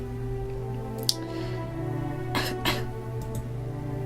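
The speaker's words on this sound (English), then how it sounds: "Yeonho coughs." Yeonho, a character in the visual novel game Nameless, gives a few short, breathy coughs over a steady background music bed, with a sharp catch near the start and two rougher coughs later.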